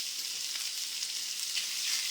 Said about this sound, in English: that sizzle you want to hear, you can dip it down a little bit like the sizzle is happening